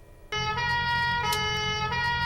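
A European-style police siren begins abruptly and holds a loud, steady, piercing tone with slight pitch shifts as it continues without talk over it.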